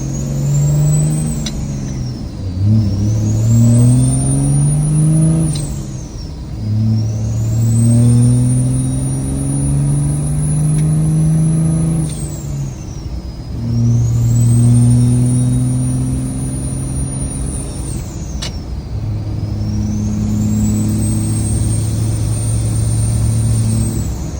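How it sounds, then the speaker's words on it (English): A truck engine with an HE351 turbo and no air filter roars through repeated accelerations, each with a loud rising whistle of turbo spool, broken by short pauses and hissing releases between gear shifts. "Turbo's a little extra loud because I don't have an air filter on it right now."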